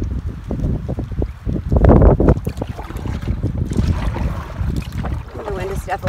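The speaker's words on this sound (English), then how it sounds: "waiting for the next big, huge wind gust" Strong gusts sweep across a lake in the Temagami wilderness during a solo canoe trip, buffeting the microphone in loud rushing bursts that rise and fall over a low, rumbling background.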